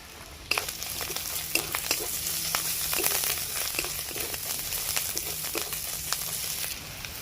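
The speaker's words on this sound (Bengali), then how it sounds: "পেঁয়াজটা আমার ভাজা হয়ে গেছে, এর মধ্যে দিয়ে দেবো আদা বাটা, খুব অল্প পরিমাণ লঙ্কা গুঁড়ো দিব, আর দেব হাফ চামচ হলুদ গুঁড়ো" Fried onions sizzle in a pan with ginger paste, a little chili powder and turmeric added, a steady close crackle broken by scraping stir strokes, with no talking.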